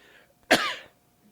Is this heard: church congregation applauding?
no